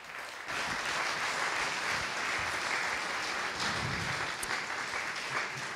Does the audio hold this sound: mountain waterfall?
no